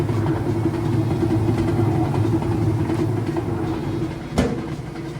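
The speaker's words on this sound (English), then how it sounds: "we are up to full speed on the spin cycle" A Whirlpool direct drive washing machine running its high spin cycle at full speed, a loud steady mechanical drone with a brief sharp knock near the end.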